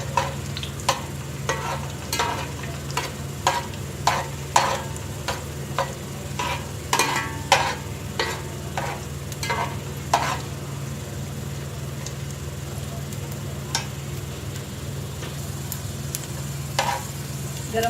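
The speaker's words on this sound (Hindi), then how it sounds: "गरम मसाला भी फ्राई हो गया है।" Garam masala frying in oil in a pan on a home kitchen stove, a steady low sizzle under repeated sharp scrapes and clinks of a spoon stirring, spaced irregularly across the clip.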